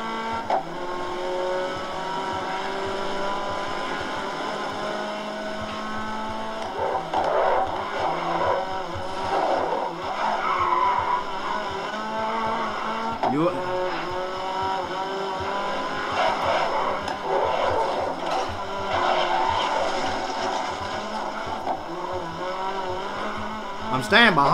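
Race car engine from the GRID racing video game roars steadily with tyre skidding and squeals throughout, loud and continuous, while someone talks over it.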